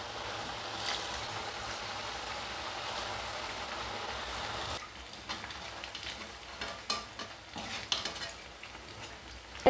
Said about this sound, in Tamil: கடாயில் எண்ணெய் ஊற்றி காய வச்சுருக்கேன். வந்து நம்ம இதை போட்டு எடுத்துடலாம்.